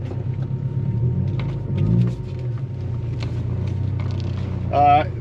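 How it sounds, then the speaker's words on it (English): Interior of a Honda Civic on the road, its engine rumbling low and steady throughout with light road noise, people talking over it, and a brief tonal whine near the end. "now we're actually off to drive the car and make sure that it's working like it's supposed to"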